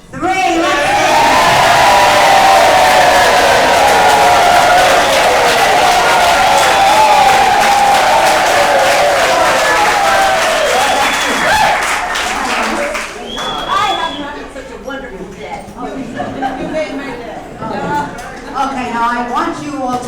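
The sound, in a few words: audience cheering and applauding a standing ovation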